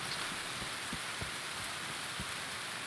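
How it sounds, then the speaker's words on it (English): Rain falling on a map at night in the video game Escape from Tarkov, a steady dense hiss of raindrops with a few soft low thuds underneath, constant and unbroken. "Really sucks that it's raining on this map."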